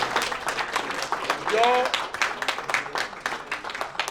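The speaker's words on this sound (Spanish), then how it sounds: "Yo pido un aplauso" An audience at a lecture on the life of Padre Varela gives scattered, moderate clapping with distinct individual claps, and a voice briefly rises over it midway.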